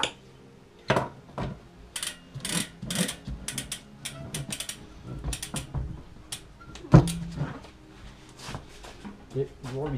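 A bicycle cassette lockring nut is screwed back on, heard as a series of ratcheting clicks and metallic tool taps at close range, with a person speaking between them.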